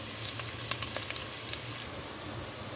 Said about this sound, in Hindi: ऑयल के बाद यहाँ गरम करते ही यहाँ प्याज डाल देंगे।